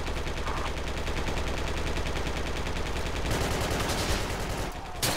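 Rapid automatic gunfire from the military shooter Project Reality, a steady stream of closely spaced shots rattling on without pause, with a sharper burst near the end.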